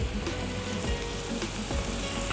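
Tomato puree sizzling in a hot paella pan, a dense crackling fry with bubbling pops, close and continuous, with a little stirring underneath.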